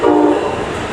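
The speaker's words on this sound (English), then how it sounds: "they have to blow the horn if there's somebody on the track" Train horn blaring loud and close in one sustained blast as a train rolls by a working rail yard where crews are on the track, with steady rumble beneath and no talk.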